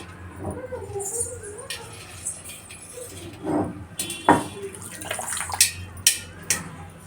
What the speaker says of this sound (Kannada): ಇವಾಗ ತಬಾಕ್ಸಿ ಸೊಪ್ಪನ್ನ ತೊಳೆದು ತೊಗೊಂಡಿದ್ದೀನಿ